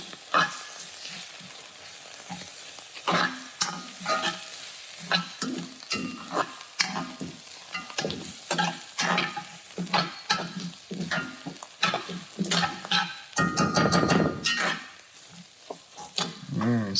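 Tomato paste gets stirred into a sizzling pot of Cajun jambalaya, with repeated scraping spoon strokes in an uneven rhythm over a steady frying hiss, close and alone.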